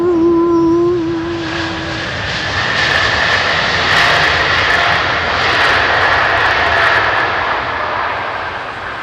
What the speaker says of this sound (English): Those Pratt & Whitneys do have a very unique reverser note, don't they?